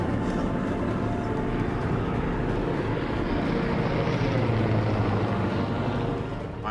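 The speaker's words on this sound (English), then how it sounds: "You're looking at this plane, and you can clearly see it." A search plane drones overhead above the Grand Canyon, a steady loud broadband engine roar that holds for several seconds before easing slightly at the end, with no voices.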